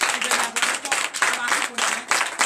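A church congregation applauds during a Sunday worship service in Comè, Benin, the clapping coming in steady loud surges with brief dips between them.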